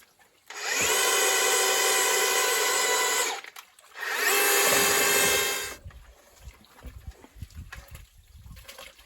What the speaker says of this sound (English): it's very hard for the drill to run with all that 20 pounds of paper on the end of the drill.